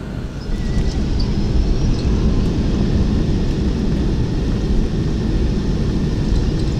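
Boeing 727 reverse thrust on landing in a flight simulator game, a loud, steady roar of engine noise that swells in the first half second and then holds unbroken, with no talking.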